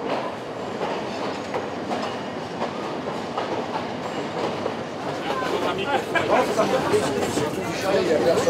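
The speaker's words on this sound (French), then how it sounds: "Ce n'est pas pour rien que les Sri Lankais appellent ce train le TGV, le train à grande vibration" Slow local train in Sri Lanka rattling and vibrating along the track, a continuous loud clatter with rhythmic wheel clicks and murmured passenger chatter in the background.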